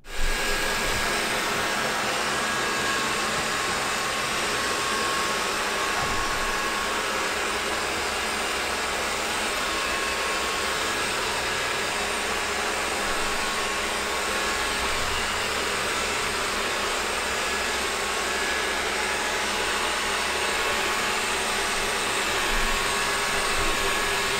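A Roborock S5 robot vacuum cleaner runs with a steady, loud broadband whir and hum that holds constant throughout, with no voices.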